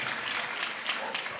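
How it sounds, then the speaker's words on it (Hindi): A congregation clapping at a church convention in a Punjab village, a dense, continuous wash of many hands applauding together, fairly loud and close. "या ताली बजाते रहिए, हाथ भी गर्म हो जाएंगे।"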